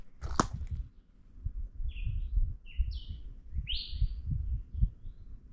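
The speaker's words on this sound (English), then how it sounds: "so that was a call of a raptor." A raptor, probably a forest buzzard, calls on a hiking trail near Cape Town with a few short, high, drawn-out cries in quick succession. The calls are distant and sit over low rustling and handling noise, and no one speaks.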